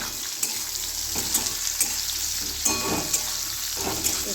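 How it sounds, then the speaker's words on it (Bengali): Finely chopped onions frying in oil for a Bengali masoor dal with pointed gourd, a steady close sizzle punctuated by regular scrapes and stirs of the spatula. "পেঁয়াজটাকে খুব ভালো করে ভাজতে হবে, একদম লাল লাল করে।"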